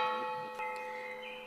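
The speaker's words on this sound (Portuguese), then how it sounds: "Foi o sino." A church bell rings a sustained, shimmering tone that hangs and slowly fades, with a fresh faint strike partway through and no voices over it.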